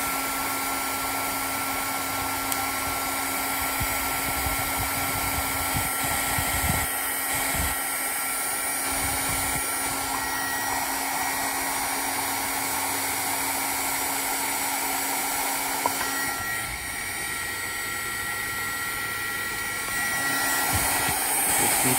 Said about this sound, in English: my heat gun is heated up and my box is heated up